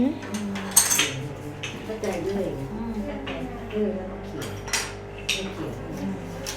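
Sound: toy pots and pans clattering during pretend cooking

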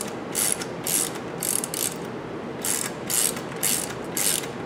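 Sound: ratchet tightening serpentine belt tensioner

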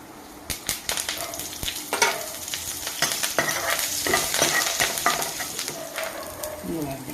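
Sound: oil sizzling while tempering cucumber peanut chutney

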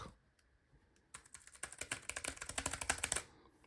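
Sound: typing on a Bluetooth keyboard connected to a Mac

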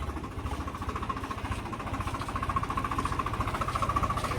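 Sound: farm tractor engine running

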